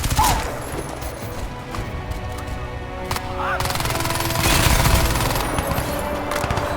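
Rapid automatic gunfire crackles in bursts during Crysis 2 gameplay set in New York, loud and continuous with sharp impacts layered through the din.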